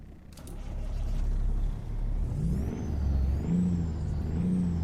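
A Caterpillar C15 diesel engine in a Peterbilt 389 in American Truck Simulator rumbles low and steady, with an air-brake hiss near the start and a rising, whining rev later on.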